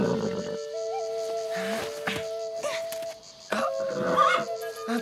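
A cartoon horse named Little Thunder whinnies in a few drawn-out, wavering calls, near and fairly loud, with sparse other sounds between them.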